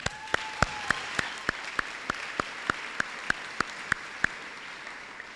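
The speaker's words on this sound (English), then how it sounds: "give yourselves a round of applause" Applause from the audience at a 2025 high school graduation ceremony: a steady wash of clapping with sharp, evenly spaced claps standing out above it, heard without talk.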